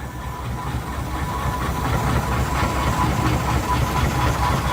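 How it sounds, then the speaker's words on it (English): A Marshall agricultural steam engine runs close by, giving a steady broadband chuffing and hissing rumble that holds at an even, fairly loud level throughout, with no voices. "And coming up behind us is a Marshall agricultural engine."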